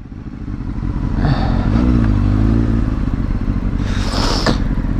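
A motorcycle engine revs hard on a dark road at night, its pitch climbing and falling in a loud, steady drone, with a brief clatter and a sharper whine near the end.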